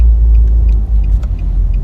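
A car rumbles past in a park, a steady low-pitched road noise that stays loud and close throughout, with no talking.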